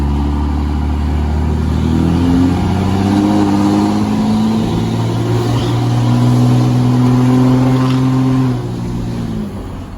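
Straight-piped Cummins 24-valve diesel truck engine revs loudly and close, rising and falling through several long throttle pulls with a deep, rumbling exhaust, then settling toward idle at the end.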